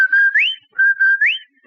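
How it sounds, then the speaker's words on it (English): Rinso White advertising whistle from an old radio broadcast: a two-note rising whistle, a steady tone sweeping upward, played twice in quick succession, clear and loud with no talk. "That's the Rinso White whistle."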